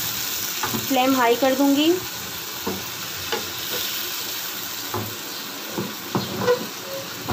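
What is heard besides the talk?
meat sizzling and being stirred in a karahi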